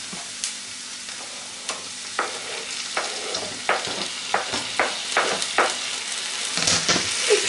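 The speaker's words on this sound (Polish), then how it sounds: "Cebulę już mam pokrojoną, zeszkloną i dodaję grzyby." Pre-cooked dried mushrooms and softened diced onion fry in a pan, a close steady sizzle punctuated by regular stirring scrapes and clicks that grow busier toward the end.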